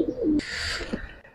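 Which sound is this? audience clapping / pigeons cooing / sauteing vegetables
pigeons cooing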